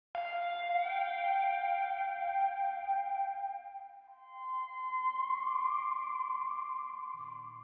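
Sampled pedal steel guitar holds one long, smooth, ringing chord, then glides up in pitch about midway and sustains with a gentle echoing tail, alone and fairly loud.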